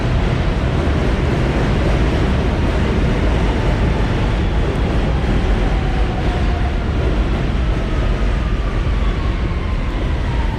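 New York subway train rumbling through Queens, a loud continuous roar of wheels and rail noise with a faint rising whine, steady and close for the whole stretch with no talking.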